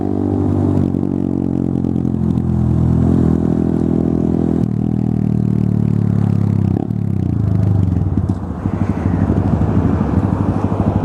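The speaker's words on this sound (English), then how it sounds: "I'm with my main boy Russ, Danger, just fitted a nice Zoom exhaust on his grom, so it can be a noisy bastard like me." A Honda Grom motorcycle fitted with a Zoom aftermarket exhaust idles and revs close by, a loud buzzy engine note rising and falling with throttle blips and some mechanical clatter.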